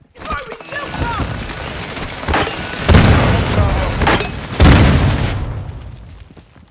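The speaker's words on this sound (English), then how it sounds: "Throwing gel charge." Gel charge detonating in Call of Duty Modern Warfare II during a Fennec 45 match, heard as several loud booming blasts over about seven seconds, with gunfire and battle clatter throughout.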